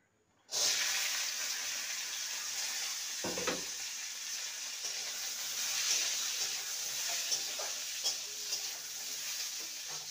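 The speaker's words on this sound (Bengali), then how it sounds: "এবারে বরবটিগুলোকে ভেজে নেব।" Long beans dropped into hot oil and frying, a sudden loud sizzle that then holds as a steady bubbling hiss with occasional pops and a brief low knock; no voices.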